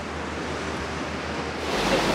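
Ocean waves on the usually calm Gulf side of Caladesi Island, heard as a steady, loud wash of surf and wind noise that swells slightly toward the end.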